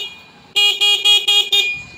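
A car horn honks in five short, loud, close bursts in quick succession after a quiet moment, on a car whose lights and dashboard had been flickering and whose horn had stopped working.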